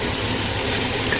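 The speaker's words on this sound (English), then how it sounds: "put a bit of a stock, deglaze it, and then reduce the heat" Stock pours into a hot pan to deglaze it for a Portuguese caldo verde soup of potato and chouriço, giving a continuous close hiss and gush.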